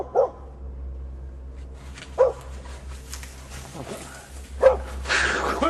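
A dog barks at a moose in the woods, three sharp, fairly close barks spaced about two seconds apart over a steady low background hum.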